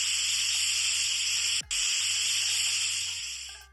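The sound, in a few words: pressure cooker hissing steam while cooking rice kheer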